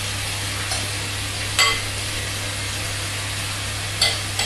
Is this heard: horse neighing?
no